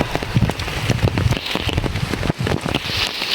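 Light rain patters steadily on surfaces in a village, a dense close crackle of drops with no break and no voices.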